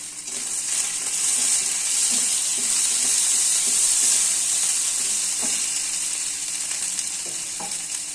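Kashmiri chili powder hitting hot oil in a pan for katla fish curry, giving a loud, close, steady hiss of frying with a few light scrapes of stirring.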